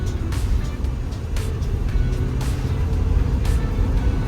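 A 2014 Ford E-series van drives with overdrive switched off, its engine and road noise forming a steady, loud rumble from start to finish, with a few faint clicks and rattles on top and no talking.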